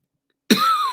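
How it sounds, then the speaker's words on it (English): A single sharp human cough breaks the silence, brief and close to the microphone, with a short second burst at the end. "Sorry, I'm coughing."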